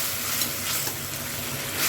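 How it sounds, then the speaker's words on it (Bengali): Soya chili frying in a pan while being stirred: a loud, dense, continuous sizzle with faint scraping movement close by, and no speech. "এবার একটু নেড়ে নিচ্ছি।"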